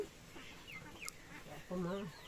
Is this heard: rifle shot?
no